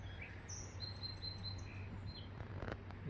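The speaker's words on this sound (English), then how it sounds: "Over there's a bird." A bird calls from a tree outdoors, giving a series of thin high chirps and whistles scattered over a few seconds against a steady low hum.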